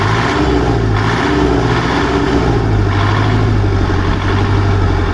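A small engine running steadily at idle after a second starting attempt, a loud, continuous low rumble close by with no voices.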